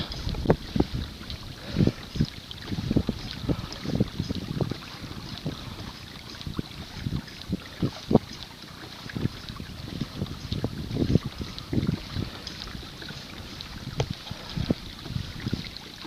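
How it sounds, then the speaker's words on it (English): Wind gusting over a small boat on the Upper Noosa River, with steady low buffeting and scattered soft knocks and splashes, fairly faint and with no talk. "Here comes the wind."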